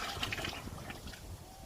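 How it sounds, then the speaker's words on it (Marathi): Black chemical-free jaggery dissolved in water, poured into a farm fertiliser mixture, gives a steady soft splashing and trickling stream lasting the whole moment, quiet and close. "तर पाणी असं टाकून द्यायचं।"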